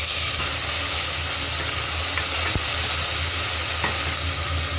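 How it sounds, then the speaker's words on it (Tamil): Onions sauté in a hot pan for Chettinad-style mutton kulambu, giving a loud, continuous sizzle with a spatula stirring now and then, close up and without speech. "பாருங்கள், இந்த வெங்காயம் எல்லாம் நல்லா வதங்கிடுச்சு."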